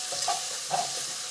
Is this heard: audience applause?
no